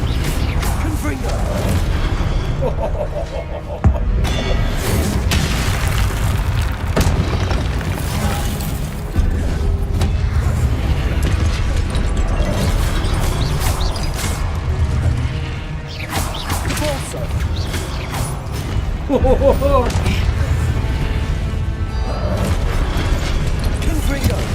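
Confringo blasting spells explode again and again in Hogwarts Legacy, a dense and loud run of booms, crashes and whooshes that carries on without a break.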